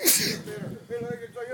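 One quick, hissing sneeze bursts out at the start, followed by people talking quietly nearby.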